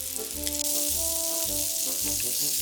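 Hamburger patties for a bento lunch fry in a pan, giving off a steady, bright sizzling hiss under soft background music.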